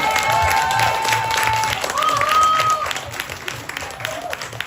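An audience applauds after a panel discussion on community empowerment, with steady crowd clapping and a voice speaking over it throughout.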